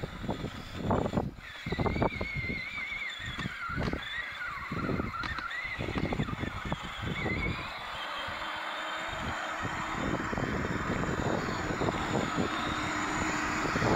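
A children's KL789 electric quad bike, 12V with two motors, climbs a steep hill with a continuous electric motor whine and bumpy rattles, running close and fairly loud throughout.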